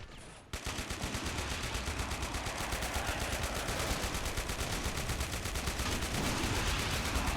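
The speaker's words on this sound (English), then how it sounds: "you're just firing at everything" Rapid gunfire from a Men of War: Assault Squad 2 battle rattles on without pause in dense, evenly spaced bursts, loud and sustained after a brief quieter lead-in.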